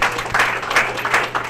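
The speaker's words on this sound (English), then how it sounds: "So Diane deserves a special round of applause for all that she's done to get this happening" An audience at a motorsport radio show event gives a round of applause, a steady wash of close, loud clapping with no one speaking over it.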